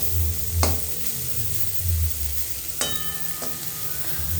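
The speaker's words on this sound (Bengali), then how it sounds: "আঁচটা সিমে করে লাল লাল করে ভাজছি" Bottle gourd peel fries on low heat in a pan, a soft steady sizzle broken by a few sharp scraping stirs of a spatula; no voices.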